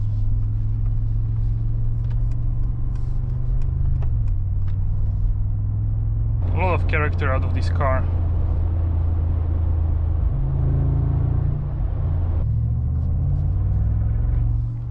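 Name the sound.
SUV V8 engine rumble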